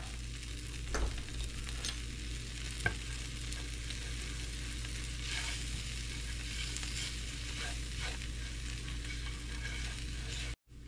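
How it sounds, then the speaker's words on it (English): A butter and flour roux cooks gently in a pan, giving a soft, steady low sizzle with a few faint stirring taps and a low hum beneath it. "we're just gonna cook this for a minute to cook out the raw flour taste"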